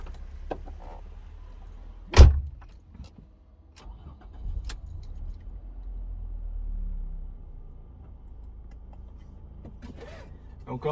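A 2006 Ford Mondeo Ghia car with a four-speed automatic gearbox sets off for a drive: a sharp thud like a door closing, then a low engine rumble building steadily under a few faint clicks and rustles.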